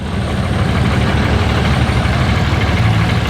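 A vehicle engine idles beside a lawn in a loud, close, steady low rumble with an even pulsing throb and no talking.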